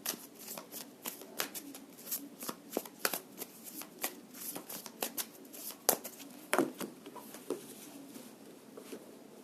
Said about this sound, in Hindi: सो ये सारे कार्ड्स मैं अभी हटा दूंगी और नए कार्ड्स को स्प्रेड करूंगी